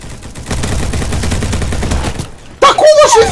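Rapid automatic gunfire in the Roblox shooter Bad Business: a dense burst of shots rattles for about two seconds, then a sharper louder shot and game effects follow with a voice speaking.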